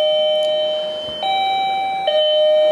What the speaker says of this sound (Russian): Сигнал звонка может включаться с помощью пульта дистанционного управления.